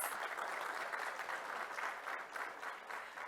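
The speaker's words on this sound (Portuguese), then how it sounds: "Salva de palmas." Steady audience applause in an auditorium at a conference, a dense wash of many hands clapping at even volume throughout, with no voices standing out.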